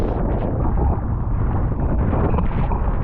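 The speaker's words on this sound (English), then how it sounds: "The gust coming so quickly." A strong wind gust sweeps across a Norwegian fjord in winter while sailing, a loud, continuous low roar buffeting the microphone with no letup.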